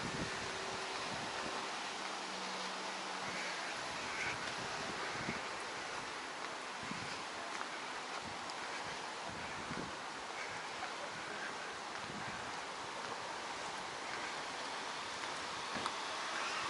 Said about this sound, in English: it's a bit windy, and you'll see that on the beach.